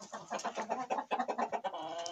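Bantam crossbreed hens clucking close by in a backyard, a rapid series of soft, throaty clucks overlapping one another with no talking over them.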